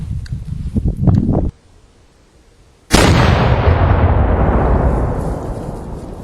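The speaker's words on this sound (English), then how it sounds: "rifled mountain gun, 3-inch bore, 9 ounces FG powder, 1 round canister" A 3-inch rifled mountain gun loaded with 9 ounces of FG powder fires a canister round, a sudden loud close blast after a short lull, followed by a long rumbling decay; earlier rustling and handling noises precede it.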